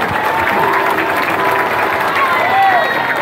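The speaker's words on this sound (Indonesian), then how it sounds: "Baik, boleh berikan tepuk tangan sekali lagi yang meriah" Audience applause with some cheering at a ceremony unveiling renovated public schools in Jakarta with the governor, a steady dense wash of clapping throughout, mixed with crowd voices.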